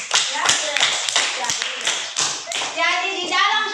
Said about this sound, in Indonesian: Ya, oke, tepuk tangan juga untuk ini.